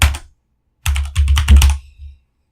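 Fingers typing on a computer keyboard, close and crisp, with a short burst of keystrokes, a pause, then a quicker run of clicks ending in one final key tap.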